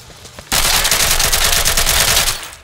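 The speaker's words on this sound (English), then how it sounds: "I think he's shooting the dirt" A sudden, sustained burst of automatic gunfire in Insurgency, loud and close, starting abruptly and rattling continuously for about two seconds before tapering off.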